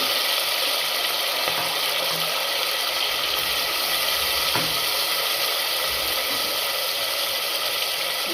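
Curry leaves, green chili and tomato fry in a hot pan with a steady loud sizzle, while a spoon scrapes and stirs with occasional clicks against the metal.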